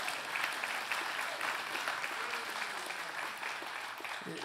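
A church congregation applauds together, a steady dense wash of clapping that fills the room and holds at an even level throughout.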